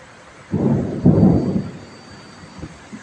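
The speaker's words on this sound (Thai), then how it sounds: "ฟ้าร้อง" A deep rumble of thunder rolls through in two heavy surges, then fades into a quiet, low murmur.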